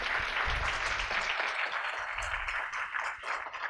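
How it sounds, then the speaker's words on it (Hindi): An audience at a Hindi poetry event breaks into sustained applause, a dense wash of many hands clapping at a moderate distance, with no talking. "मैं चाहूँगी आप ज़ोरदार तालियां बजाएं एक बार अजय के लिए"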